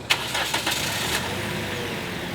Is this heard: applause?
no